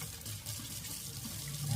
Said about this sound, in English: under running water